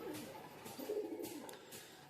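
A pigeon coos softly in a few low rolling phrases, close by and faint, with no talk over it.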